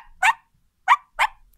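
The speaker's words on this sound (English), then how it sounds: "Mark here is the cutest little puppy I could ask for." A two-week-old puppy at a dog park gives three short, high yips, separated by brief silences, close and clear with no talk over them.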